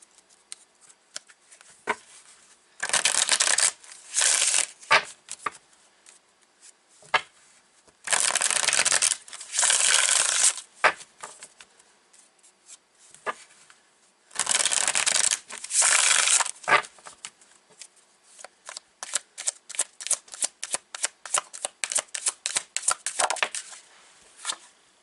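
Tarot cards being shuffled in repeated bursts of riffling and crisp flicking, close to the microphone, with pauses between bursts and a run of quick separate card snaps toward the end.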